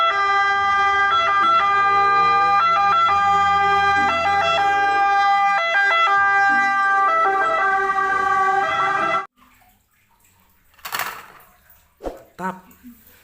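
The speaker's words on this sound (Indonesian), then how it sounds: "Wow, di sini ada mobil ambulan teman-teman." An ambulance siren wails loudly and steadily for about nine seconds, its layered tones repeating in a regular cycle, then cuts off abruptly, leaving a few scattered knocks and clatters.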